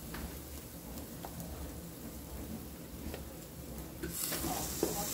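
Mocotó, cow's foot, is added to a simmering sauce on the stove, giving a soft, low crackling sizzle that swells louder near the end.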